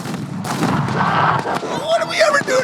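Gunfire in the Menace video game: a few muffled shot bursts and booms blend with in-game voices and effects over a short stretch, with talking heard throughout.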